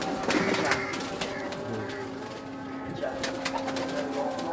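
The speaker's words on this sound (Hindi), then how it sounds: "ये कमंगर कबूतर है।" Kamangar breed pigeons coo softly nearby in a breeder's loft in Karachi, low gentle calls with faint rustling, while a voice is heard faintly in the background.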